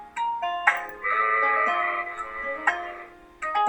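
A sheep bleating in the video game Heart no Kuni no Alice, several close, quavering bleats with a long drawn-out cry in the middle and brief calls before and after.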